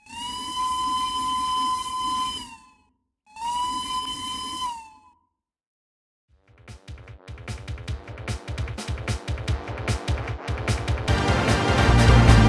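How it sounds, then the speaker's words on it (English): Two long, high-pitched blasts from the whistle of a KdNS A0 class steam locomotive in a video game, each lasting about two seconds, followed by rhythmic chuffing that gets faster and louder as the engine pulls away. "The A0 is equipped with a higher pitched whistle."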